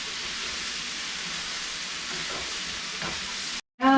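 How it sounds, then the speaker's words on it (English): Kielbasa browning in a pan for a Hawaiian stir fry, a continuous even sizzle with faint stirring, close and steady, that cuts off abruptly near the end before a brief burst of another sound. "we're going to let this get golden. Just get a little bit of color on the kielbasa"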